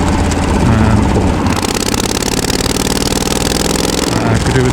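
Yamaha V Star 1300 motorcycle engine being pulled at low revs, a loud, continuous throbbing rumble that swells slightly in the middle, heard up close with no talking.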